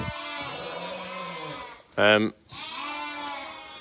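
One loud sheep bleat, short and wavering, lands between stretches of people talking nearby during lambing season.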